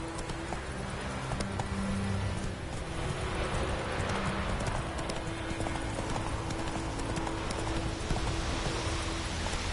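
Roach, a horse in The Witcher 3: Wild Hunt, clip-clops at a steady gallop. The hoofbeats run continuously under dense, loud ambient noise.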